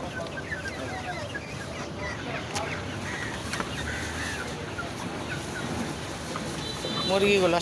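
Chickens clucking outdoors along a roadside on a morning walk, scattered bird calls mixed with steady ambient noise and some voices.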